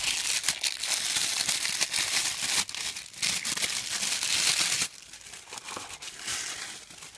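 Tissue paper printed with the Chanel logo crinkles and rustles as it is unwrapped close by, a steady crackling that drops briefly, then resumes more softly, with no voice.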